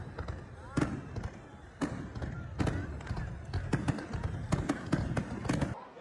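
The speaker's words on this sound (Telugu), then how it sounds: "సో చూసారు కదా ఫైర్ వర్క్స్ ఎంత బాగుంది కదా" Fireworks burst over Sydney at New Year, a run of irregular booms and cracks, some overlapping, heard from a distance with crowd voices talking throughout.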